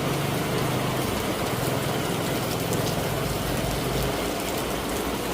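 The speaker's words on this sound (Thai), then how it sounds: "ฝนกำลังลงหนัก" Heavy rain pours down in a dense, constant hiss that never lets up, with a low engine drone running underneath and no clear talking.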